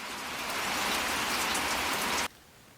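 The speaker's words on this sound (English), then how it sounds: "Well, the rain stopped here for a minute." Steady dense rain pouring outside near a farmhouse, a loud even hiss that cuts off abruptly near the end, leaving quiet.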